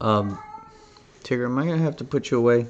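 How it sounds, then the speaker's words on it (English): A pet cat named Tigger meows at the start, a single clear cry before a person speaks close by. "My kitty cat's crying."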